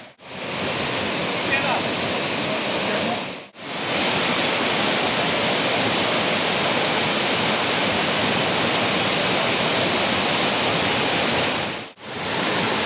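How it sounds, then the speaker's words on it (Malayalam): Strong water flow pours over a check dam at Pattathipara Waterfalls, a loud, dense, unbroken roar of rushing water heard close up, with brief cuts. "വളരെ ശക്തിയായിട്ടുള്ള ഒഴുക്കാണ്."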